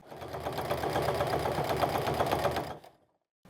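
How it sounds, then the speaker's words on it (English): Close and loud, a sewing machine runs continuously for nearly three seconds stitching the lining edges of a foam-structured fabric nesting basket, then stops abruptly into silence. "So that way now we're stitching together our lining edges"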